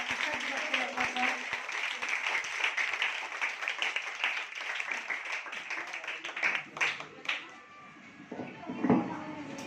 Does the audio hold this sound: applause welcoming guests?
yes